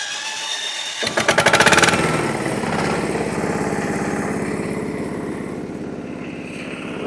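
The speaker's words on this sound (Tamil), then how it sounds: "டீசல் இன்ஜின் இருக்கு." The diesel engine of a small 16-18 HP remote-controlled mini excavator cranks with a rapid sputtering burst, then settles into a steady, close, loud rhythmic idle, without talk.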